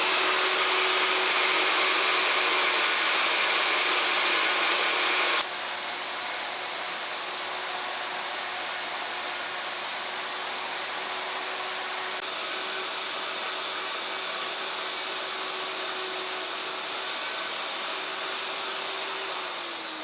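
A wood router carves letters into a wooden sign, giving a loud, continuous high-pitched whine with a steady roar that dips slightly partway through and holds without pause.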